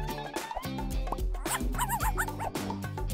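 A small dog yips and whimpers in short, high bursts under cheerful music in a children's craft and doll setting.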